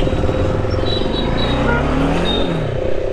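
Bajaj Dominar motorcycle engine droning steadily while riding on a highway trip, a continuous loud hum with wind rush and faint high whines, no talking.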